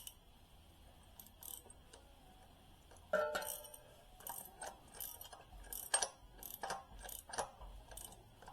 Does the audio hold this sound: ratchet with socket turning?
yes